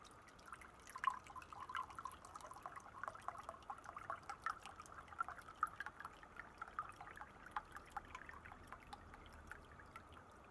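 Water seeps and drips from a handmade leather water bottle, or costrel, in quick irregular patters and small trickling drops, close and fairly quiet, continuing steadily with no speech.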